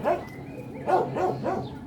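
A dog at an animal shelter in Germany gives three short, close, moderately loud yelping barks with a whiny edge, spaced about half a second apart.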